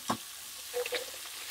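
Thick local chillies fry for a curry, giving a short, soft sizzle broken by a couple of brief stirring scrapes and clinks close by.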